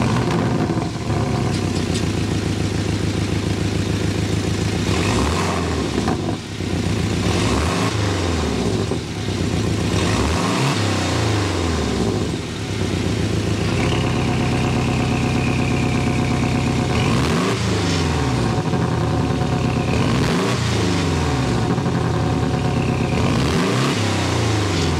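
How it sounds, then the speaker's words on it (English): A 2022 Porsche 718 Cayman T engine fires up and revs repeatedly in sharp bursts, the exhaust rising and falling over a steady loud idle, close and continuous. "Let's start it up so we can hear that exhaust note."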